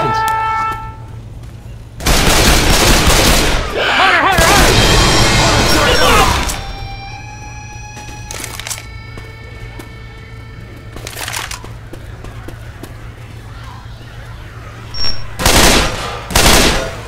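Gunfire in Left 4 Dead 2, with long loud bursts of rapid automatic fire, then scattered single shots and short bursts amid game noise, and a voice shouting between them.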